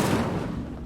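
Incendio fire spell cast in Hogwarts Legacy, a short loud burst of roaring flame with a sharp onset that swells and then fades over under a second.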